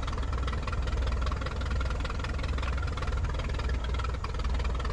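A de Havilland DHC-1 Chipmunk's piston engine runs steadily at moderate RPM during a ground magneto check in a flight simulator, producing a continuous, even rumble with a slight uneven knock and no voices.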